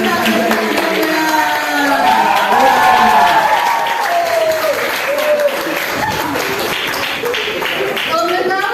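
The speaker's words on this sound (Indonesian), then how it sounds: "Beri tepuk tangan yang meriah dong buat ustadz dan ustazah." A crowd at a school talk show breaks into lively applause for religious teachers, steady clapping filling the room while voices and cheers mix in underneath.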